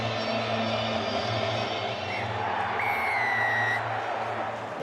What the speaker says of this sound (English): Supporters are certainly in good cheer.